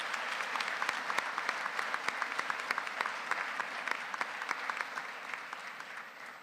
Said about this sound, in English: Let's give her another round of applause as she returns to her seat.